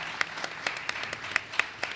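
Applause at a school district board of education meeting: a small group claps in scattered, uneven strikes, moderately near and fairly quiet, with no voices over it.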